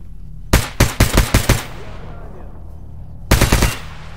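Automatic gunfire in the video game S.T.A.L.K.E.R. GAMMA, set in the Chernobyl Exclusion Zone, comes as one loud, close burst of about six rapid shots, a short pause, then a second burst of three or four shots.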